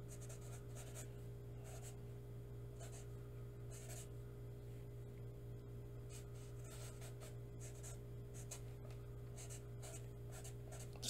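Pen or marker strokes scratching across paper while a fish is drawn, a steady run of short rubbing bursts over a constant low background hum.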